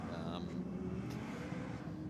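A drag racing car runs down the track at Sydney Dragway, heard as a steady, fairly distant engine roar under people talking close by.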